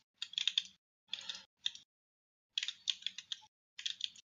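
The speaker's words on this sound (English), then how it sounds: "I was hot micing my keyboard" Computer keyboard typing picked up by an open mic during a game livestream, crisp close keystroke clatter in six short separate bursts with silent gaps between them, no talking.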